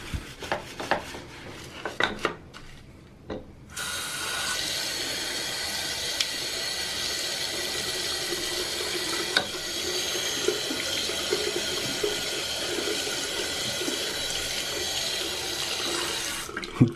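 A sink faucet in a shower or bathroom runs in a steady, loud stream of water for most of the time, following a few brief knocks and clatters at the start.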